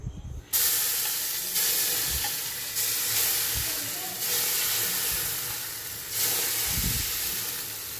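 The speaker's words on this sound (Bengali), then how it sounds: "এর আমি কড়াইয়ের মধ্যে দিয়ে দেবো।" Rice flour batter hits hot oil in a wok with a sudden loud sizzle that keeps going as a steady hiss of frying, with a few soft bumps from stirring and no one talking.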